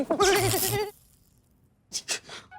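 A goat bleats loudly and close, one long wavering cry followed by a short pause and a couple of quieter breathy sounds, with no speech.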